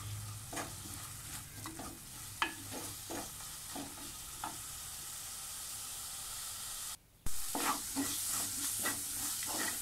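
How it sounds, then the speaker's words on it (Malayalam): Spice paste sautéed in a pan for raw plantain curry: a soft, constant sizzle with regular scraping stirs, a brief dropout near the end, then louder frying resumes, with no talking. "ആ അരപ്പിൻ്റെ പച്ചപ്പ് പോകുന്നത് വരെ നമുക്കതിങ്ങനെ വാട്ടിയെടുക്കാം."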